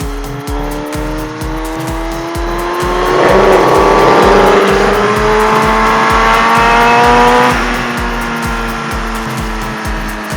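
A motorcycle exhaust roars steadily with a rhythmic pulsing rumble, rising in pitch and loudness through the middle before easing back, revving nearby.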